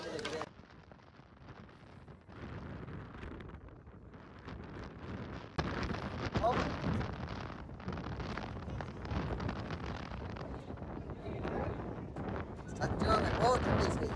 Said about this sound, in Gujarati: પવન જ જબરો છે એકદમ